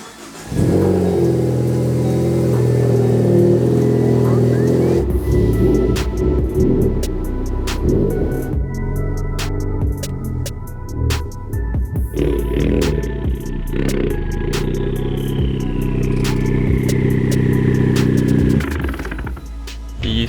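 A Hyundai Veloster N drives along with a steady mid-pitched engine drone, loud and close from an in-car position, shifting and revving at intervals with road noise underneath.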